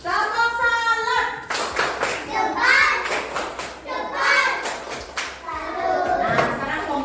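A classroom of young children claps and chants together in a rhythmic pattern, loud and close, the claps falling in steady bursts between their voices.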